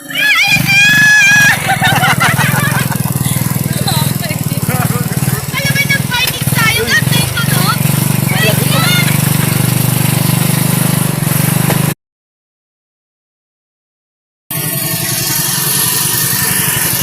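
A gasoline motorcycle engine runs steadily and fairly loud beneath ongoing conversation, with chirping birds or animal calls early on, a brief gap of silence, then the engine drone resumes.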